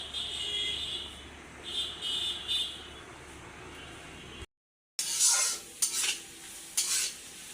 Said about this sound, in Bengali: এখানে এই যে বেশি করে পেঁয়াজ মরিচটা ভেজে নিচ্ছি